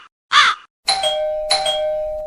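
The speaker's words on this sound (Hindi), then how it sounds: "बज गई घंटी" A two-tone ding-dong doorbell rings twice in a quiet home, loud and close, the chimes ringing on briefly after each press, preceded by a short caw-like sound.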